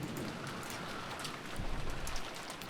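Steady, soft rain falls on surfaces in the background of a mystery visual novel scene, a faint, even hiss with a few slightly louder patters.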